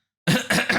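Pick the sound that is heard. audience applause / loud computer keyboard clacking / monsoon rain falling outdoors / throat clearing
throat clearing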